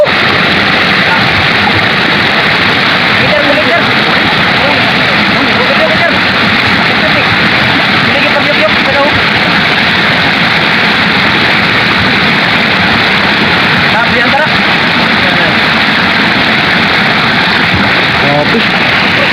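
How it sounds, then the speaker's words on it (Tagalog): Powerful floodwater current rushing with a loud, unbroken roar close by, dense and steady for the whole stretch without any pause. "Lakas ng tubig oh."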